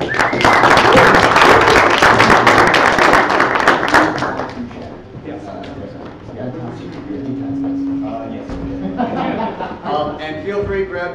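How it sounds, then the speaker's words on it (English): An audience at a conference event claps loudly for a few seconds, then the applause fades while a voice speaks over the thinning claps. "Let's give these guys one more round of applause."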